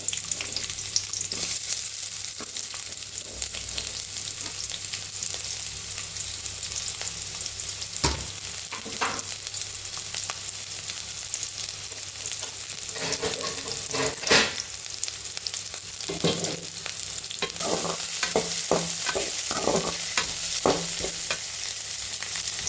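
Finely chopped onions frying in oil hiss loudly and continuously, close by, with irregular scraping and clattering bursts from stirring that grow busier toward the end.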